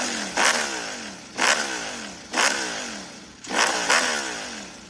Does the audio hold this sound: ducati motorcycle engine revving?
yes